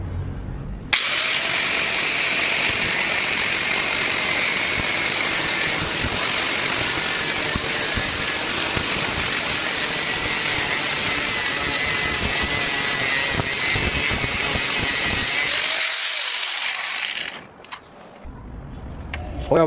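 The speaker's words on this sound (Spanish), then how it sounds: "Ahora debemos hacer un corte al centro del perno con el disco de un 16 de espesor." An abrasive cutting disc 1.6 mm thick slices through the centre of a bolt, a loud, steady grinding whine lasting about fifteen seconds before spinning down and stopping.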